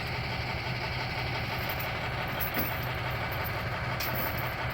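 Excavator engine idling at a construction site, a steady low rumble that runs unbroken throughout, moderately loud, with faint clanks on top.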